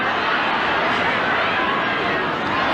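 A large stadium crowd at a 1989 Balmain versus Penrith rugby league match roars and shouts for offside, a loud, dense, continuous wash of voices throughout.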